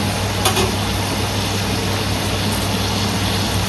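Shrimp fry in oil in a pan over a gas flame turned up to medium, giving a steady close sizzle that runs unbroken without any talk.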